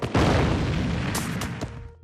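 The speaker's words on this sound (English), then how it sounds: "He was blown up in a silo explosion." A cartoon silo explosion from The Simpsons: one loud, close boom bursting out after a brief lead-in, with a sustained rumbling roar and a couple of sharp crackling pops before it fades.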